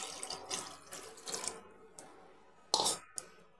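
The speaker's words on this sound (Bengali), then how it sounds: "এবারে আমি এই কাবুলি ছোলা সেদ্ধ জলটা আমি দিয়ে দিচ্ছি এঁচড়গুলো সেদ্ধ হওয়ার জন্য।" Chickpea cooking water is poured into a pan of jackfruit curry, giving a few short, soft splashes and trickles. The last splash, near the end, is the loudest, and otherwise the kitchen is quiet.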